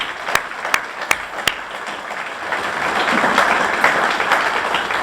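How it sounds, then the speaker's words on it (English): Audience applause at the dedication of the Ron and Joan Venderly Football Center, beginning with a few sharp isolated claps that swell into steady, sustained clapping from the crowd. "Let's give them all a big round of applause."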